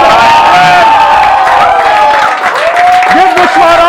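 A comedy show audience bursts into loud applause and cheering, dense clapping and whoops filling the room while a voice calls out over the crowd.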